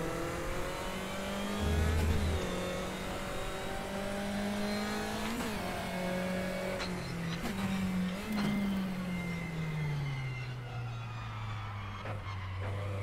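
Race car in the RaceRoom racing game accelerating hard, engine note climbing steadily through the gears with tyre skid noise, loud and continuous with no talking.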